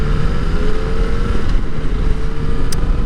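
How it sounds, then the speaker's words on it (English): Yamaha FJ-09 motorcycle with a stock exhaust, its engine running steadily while being ridden, a continuous loud low drone mixed with wind rush and no talk. "It's not too quiet, I can still hear, but I think that's mostly the motor I'm hearing."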